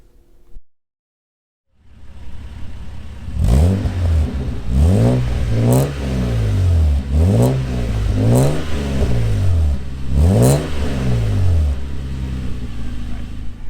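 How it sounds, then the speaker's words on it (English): A 1994 Toyota Land Cruiser FZJ80 engine with a Saxon shell muffler starts and then revs repeatedly, each rise in pitch falling back in a rhythmic series of loud, close blips with a deep exhaust tone. "you have a Saxon shell muffler to give it that nice tone when you're going down the road"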